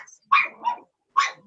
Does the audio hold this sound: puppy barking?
yes